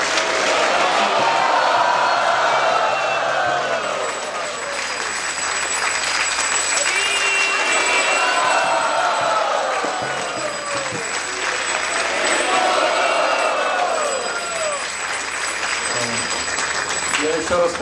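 An audience in a Moscow hall claps steadily through the stretch, the applause swelling and easing in waves while a voice talks over it.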